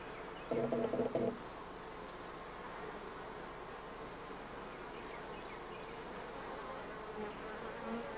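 A steady, dense buzzing of many honey bees in a hive during queen introduction fills the clip at close range, with a brief louder burst near the start and no voices.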